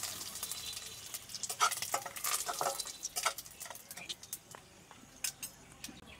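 Dried red chili, fenugreek and black mustard seeds sizzle and crackle in hot white oil in a kadai, a steady frying hiss with light stirring and spatter under a person talking.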